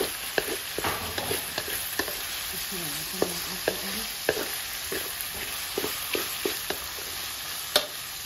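Pork sinatolan with garlic sizzling and frying in a pan while a utensil stirs it, giving irregular scrapes and clinks over a steady sizzle; no voices.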